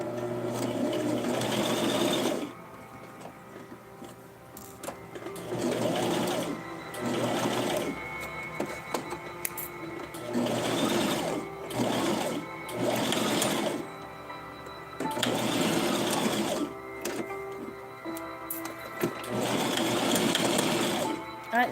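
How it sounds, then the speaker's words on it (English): A sewing machine runs triple back stitches on doll clothes in repeated whirring bursts of a few seconds each, separated by short pauses, moderately loud and close. "the triple back stitches are done"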